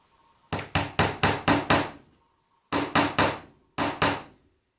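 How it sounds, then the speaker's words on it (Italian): A hammer drives a small nail into wood for string art, with a quick run of six sharp taps, a pause, then three more, and then two, all close and crisp. "batto fino a quando il martello non batte sullo spessore"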